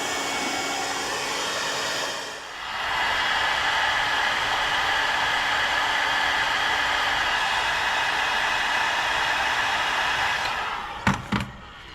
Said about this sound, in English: we're going to get the heat gun fired up, see if we can get some heat into the spacer